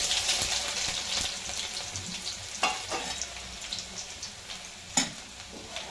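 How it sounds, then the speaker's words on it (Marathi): Cumin and garlic sizzle and crackle in hot oil for a spinach vegetable tempering, a steady close frying hiss with occasional sharp pops and stirring scrapes. "तर आता आपलं तेल गरम झाले आपण आता फोडणी देऊयात भाजीला तर सगळ्यात आधी आपल्याला जिरे घालायचे जिरे छान फुलले की आपल्याला लसूण टाकायचे"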